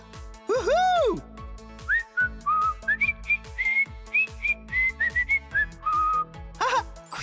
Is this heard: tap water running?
no